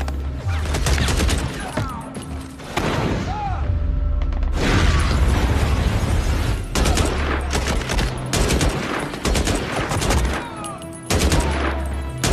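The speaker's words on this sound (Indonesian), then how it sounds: "ia pun lalu langsung melakukan serangan menggunakan senapan serta beberapa" A film attack scene on a drug cartel erupts in rapid rifle fire and heavy explosions from grenades. Dense gunshot bursts and booms come almost continuously over about twelve seconds, loud and close, with short breaks between the volleys.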